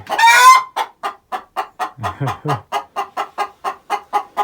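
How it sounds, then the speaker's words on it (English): Hen in a freshly cleaned chicken coop clucking in a steady run of short, evenly spaced calls after a louder squawk, close by, with a brief murmur of a voice partway through. "chicken coop's all cleaned out now. I think that one wants to lay an egg."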